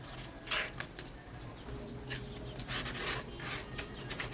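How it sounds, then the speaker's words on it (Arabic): Sanding the edges of a decoupage tray by hand, several short rasping strokes of sandpaper, close and fairly quiet, in irregular bursts with pauses between. "هروح بقى صنفرة برضو زي ما اتفقنا"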